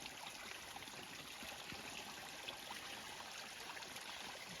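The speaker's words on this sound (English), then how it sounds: "This is a tiny pond here, or a widening part in the stream." Water trickles steadily from a small garden stream into a tiny pond, a continuous soft gurgle at moderate distance with no voices.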